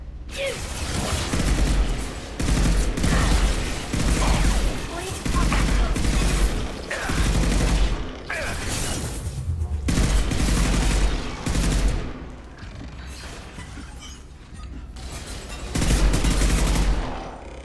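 Rifle fire in the video game Mass Effect 2, loud and close, with dense bursts of rapid shots and booming impacts that repeat in waves with brief lulls between them.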